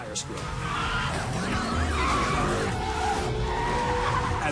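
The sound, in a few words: car tires squealing as the steering wheel turns, Fast & Furious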